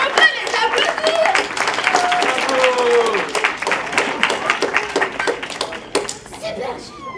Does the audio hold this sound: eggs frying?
no